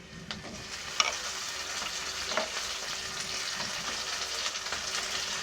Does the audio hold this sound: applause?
no